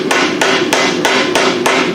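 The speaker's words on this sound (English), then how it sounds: "use a ball peen just to sort of start pushing that out" Ball peen hammer striking hot iron while forging a decorative piece: six sharp, evenly spaced metallic blows ringing out loud and close over a steady background, with no talking.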